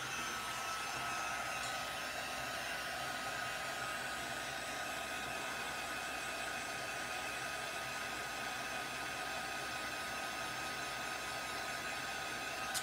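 Heat tool blowing hot air onto a mixed media craft piece, a steady close whooshing roar that holds unbroken throughout, with no talking.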